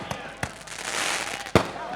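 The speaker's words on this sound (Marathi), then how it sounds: "फटाक्यांची आतषबाजी." Fireworks burst at a local cricket match celebration, with several sharp cracks spaced apart over a crowd hiss and a distant announcer's voice.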